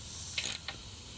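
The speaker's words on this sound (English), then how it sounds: "I'm just using a little 1/4 inch ratchet. Just snugging it up." Working on a Chevy's AC condenser and expansion valve, a small 1/4 inch ratchet snugs up a fitting: a quick close burst of rapid clicking, then one more faint click, over quiet background hum.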